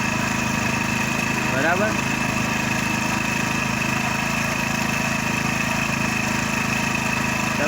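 A Hero Splendor Plus motorcycle engine idles steadily up close, a continuous droning hum with little change in loudness, while someone talks over it.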